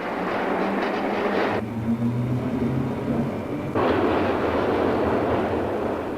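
A London Underground Central Line train rumbles and roars steadily up close, with a squealing tone midway as the noise briefly drops before surging again.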